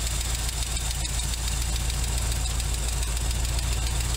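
A steady idling engine with a fast, even ticking from a valve lifter running through it, close and continuous with no voices.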